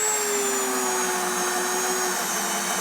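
A Bauer cordless drill drives a cabinet screw, its motor giving a steady, loud whine with a slowly falling pitch throughout, no voices.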